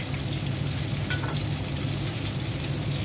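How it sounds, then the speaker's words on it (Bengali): Fish frying and being stirred in a pan for a Bengali mixed-fish curry, a steady close sizzle that runs the whole time with a few brief scraping stirs and no talking. "মাছটা কিছুক্ষণ কষিয়ে নিলাম।"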